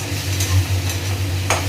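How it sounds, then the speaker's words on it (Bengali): Chopped tomato being gently stirred in a frying pan, with a steady low sizzle and a few soft scraping strokes of the spoon against the pan, close and moderately loud, no talking. "টমেটো কুচিটাও দিয়ে দিলাম, দিয়ে এবারে হালকা করে নেড়ে"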